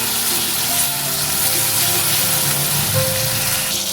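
Tomatoes fry in a pan, cooked alongside potatoes and pointed gourd, giving a loud, continuous sizzle up close while a spatula breaks them apart, with no talking over it.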